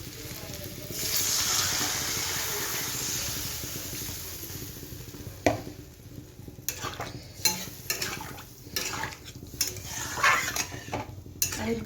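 Water poured into aloo curry in a pan sends up a broad hissing rush, then a spoon clanks and scrapes against the metal pan in irregular knocks over a faint simmer.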